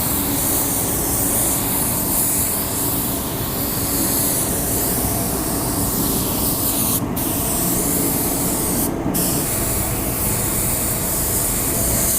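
A paint spray gun hisses continuously and loudly at close range, a steady airy rush with two short breaks in the spray.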